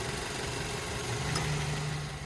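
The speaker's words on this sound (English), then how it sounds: "smooth running engine, no odd noises or anything like that" A 2009 Mazda 3i engine idles steadily with a low, even rumble and no talking, holding a constant level throughout.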